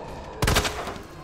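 A single loud gunshot from a handgun in Resident Evil 2 Remake, a sharp close blast followed by a short decaying echo over quiet game ambience.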